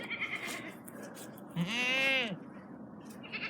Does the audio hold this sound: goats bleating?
yes